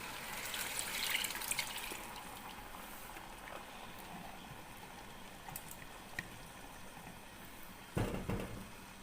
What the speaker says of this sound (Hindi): अब मेरे पास जो यखनी है वो मैं इसमें ऐड कर रही हूँ।